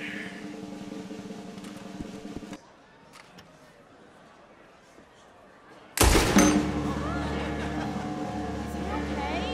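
A sharp gunshot in Red Dead Redemption 2 cracks out suddenly after a quiet stretch, followed by loud sustained rumbling noise; earlier, a steady hum with speech underneath fades out.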